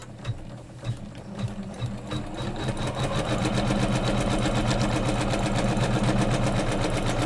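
A sewing machine runs steadily as it stitches quilting fabric along a pillow flange, with a fast even mechanical whir that builds up and then holds constant and loud, and no talking.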